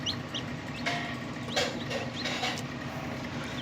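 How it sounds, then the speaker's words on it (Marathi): Desi country chicks peep in high, thin chirps, several brief calls scattered over steady background noise, close and moderately loud, with no talking. "गावरान पिल्ले मिळतील आपल्याकडं."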